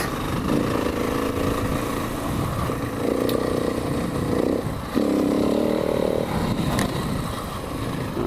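Motorcycle engine revving steadily with a couple of surges and dips in pitch as the rider attempts a wheelie, loud and close throughout with wind noise and no speech.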